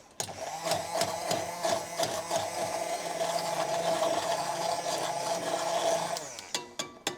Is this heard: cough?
no